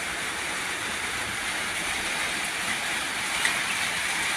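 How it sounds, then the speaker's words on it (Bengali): Heavy rain pours steadily during sunshine, a dense, unbroken hiss of falling water close by, with no voices. "কি পরিমাণ বৃষ্টি নামতেছে"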